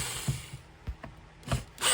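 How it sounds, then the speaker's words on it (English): Long T20 screws being backed out around the handle of a Bosch Bulldog Xtreme hammer drill, a few sparse, close clicks and scraping driver turns separated by short pauses. "I'm just removing each screw going around the handle."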